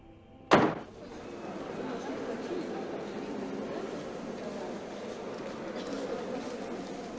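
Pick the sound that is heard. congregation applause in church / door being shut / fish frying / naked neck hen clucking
door being shut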